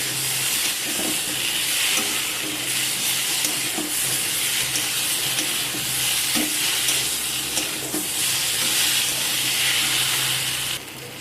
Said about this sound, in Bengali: সব কিছুকে আমি আরও 2 মিনিট এখানে এইভাবে করে নাড়াচাড়া করে নিচ্ছি।